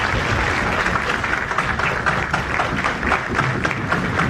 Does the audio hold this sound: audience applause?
yes